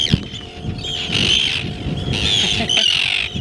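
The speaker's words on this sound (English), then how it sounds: "I looked up the name. They are Arctic Terns." Arctic terns in Iceland squawking, with a flock of harsh, raspy calls overlapping in bursts over outdoor background noise.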